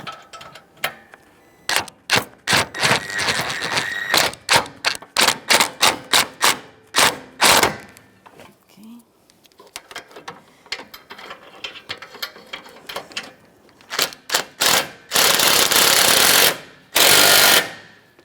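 A ratchet snugs the EGR tube mounting nuts on a 2012-2015 Honda Civic, giving loud, close bursts of rapid clicking in repeated strokes with short pauses between, followed by longer continuous runs.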